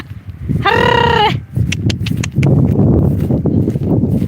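A single loud bleating call from a goat, lasting under a second, followed by a busy background of low rumbling and scattered clatter.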